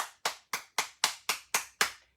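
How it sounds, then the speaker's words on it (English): Eight sharp hand claps in a steady, even rhythm, close and crisp, each with a quick decay, during a children's yoga circle time. "And let's clap."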